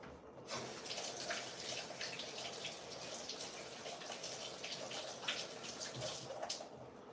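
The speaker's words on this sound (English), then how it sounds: "Let me wash my hand" A kitchen tap runs steadily while hands are washed during banana and tapioca coconut cream dessert making, a continuous soft splashing stream with no talk.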